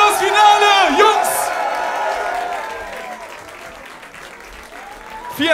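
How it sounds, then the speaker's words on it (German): A Berlin freestyle rap battle crowd applauds and cheers the final: loud, close clapping mixed with whoops and shouting voices, gradually easing off before a fresh burst at the end. "ein Applaus für das Finale, Jungs!"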